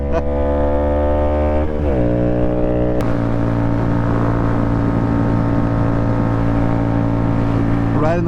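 Motorcycle engine heard while riding, a loud close harmonic drone that drops briefly at a gear shift around two seconds, then climbs steadily through the gears under hard acceleration with wind noise.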